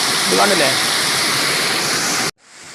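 Rainwater rushes along a roadside beside a bridge after fresh rain, a loud, dense, steady roar close by; a voice briefly speaks over it early on, and the sound cuts off abruptly near the end.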